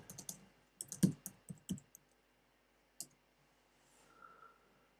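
Keystrokes on a computer keyboard come in short, irregular bursts of clicks, then pause, with one isolated tap later before a faint tone near the end; no one speaks.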